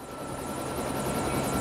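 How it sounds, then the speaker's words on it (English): Helicopter in the video game LEGO City Undercover taking off, a steady loud rotor whir and engine drone sustained throughout with no talk. "You can fly a helicopter?"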